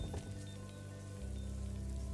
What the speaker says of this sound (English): it's raining, so we are now wet